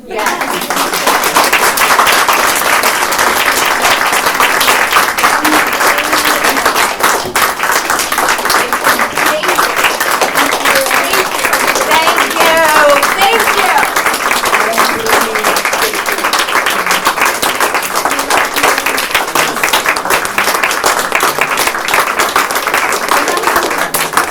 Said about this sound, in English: Can we give Erin a round of applause?